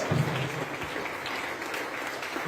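A church congregation applauding during a Spanish-language sermon, a faint, scattered patter of clapping from the pews, fairly distant, with a brief low hum or voice near the start.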